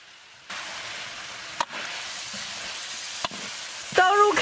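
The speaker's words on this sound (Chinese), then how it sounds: "下入胡萝卜、洋芋， 炒一炒，下入豆腐" Meat stir-fried in a wok with carrots, potatoes and tofu: loud steady sizzling that jumps up as ingredients drop in, with a few sharp clinks of a spatula and a brief burst of stirring near the end.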